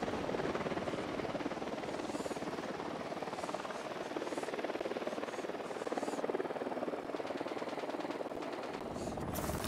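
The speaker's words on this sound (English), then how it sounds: "We need that chopper." Helicopter rotor drone in Tom Clancy's Ghost Recon Wildlands, a steady loud whir with buzzing overtones running nearly unbroken under the gunfire and game noise, fading near the end.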